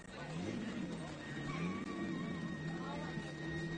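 Damaged off-road short course racing truck running hard on its own power, steaming with an unhealthy tone, a steady loud engine drone with a low rumble and rising whine, under commentary.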